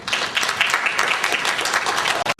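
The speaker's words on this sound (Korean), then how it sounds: "다시 한번 박수 부탁드릴까요?" An audience bursts into loud, dense applause after a lecture, with steady clapping that fills the whole moment before cutting off abruptly at the end.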